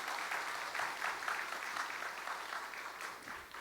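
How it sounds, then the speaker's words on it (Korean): A church congregation applauds to welcome a guest pastor during a Sunday worship service, producing soft, steady clapping from many hands that fades slightly at the end. "우리 환영과 축복의 박수 한번 할까요?"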